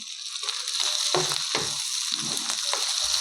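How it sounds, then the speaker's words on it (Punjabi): Potatoes sizzle steadily in hot oil on a griddle, a bright crackling hiss broken by a few scraping stirs. "ਹੁਣ ਆਪਾਂ ਇਹਨਾਂ ਨੂੰ ਤਵੇ ਦੇ ਉੱਪਰ ਪਾ ਦਾਂਗੇ ਤੇ ਇਹਨਾਂ ਨੂੰ ਵਧੀਆ ਜਿਹਾ ਆਪਾਂ ਰੋਸਟ ਕਰ ਲਾਂਗੇ"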